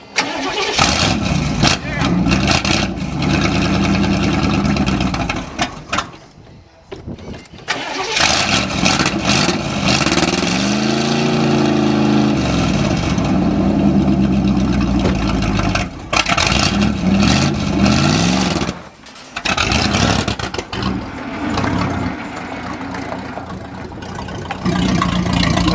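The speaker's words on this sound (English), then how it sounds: "Just love the sound of Chevy in the morning." An old Chevy engine cranks, catches and runs after being pumped with no choke, loud and close, with rough idling and short revs broken by brief pauses as someone talks over it.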